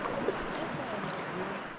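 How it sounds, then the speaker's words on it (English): A river rapid on the Ararat River rushes steadily as broadband running water, a constant wash at moderate level with no clear breaks across the whole stretch. "But we hear running water, so it might be a rapid too"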